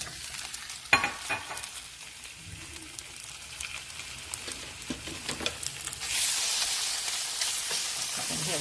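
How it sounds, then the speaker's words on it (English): Chicken pieces frying in a hot pan, first with scattered faint crackles and stirring, then a loud, steady hiss of sizzling that swells near the end. "You can hear that sizzle away."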